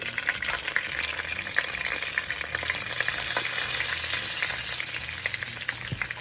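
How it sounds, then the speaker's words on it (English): Curry powder with cumin seeds, garlic and hot pepper burns in hot oil for Caribbean-style chicken foot curry, giving a loud, steady sizzle and crackle up close that swells slightly midway, with faint stirring and no speech. "I burn the curry in the oil."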